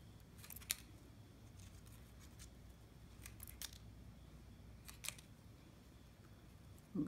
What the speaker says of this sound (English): I'm gonna trim the rest of it, and then trim all the leaves also.